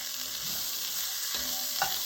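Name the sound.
beef browning and onions sizzling in pot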